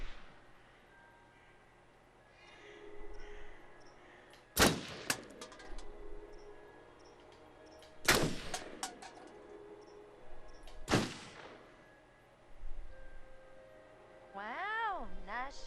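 Gunshots in the video game Until Dawn ring out as three sharp, loud reports spaced a few seconds apart over quiet ambient game sound, with a warbling tone near the end.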